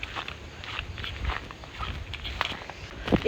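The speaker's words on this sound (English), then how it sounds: "This is my sound of chappal. So irritating" Rubber sandals slap against the ground in a steady walking rhythm, close by at a beach in Goa, with a few louder slaps near the end.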